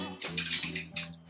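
A spatula scrapes the sides of a stand mixer bowl holding creamed butter and sugar: a few short, close scraping strokes over a low steady hum.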